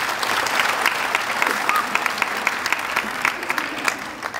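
Loud, steady clapping from an audience at a Punjab Lok Sabhyacharak Manch event night, many hands together in a continuous burst that carries on without a break.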